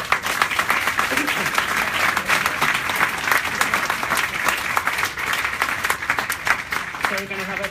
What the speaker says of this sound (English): If we can all give them a round of applause.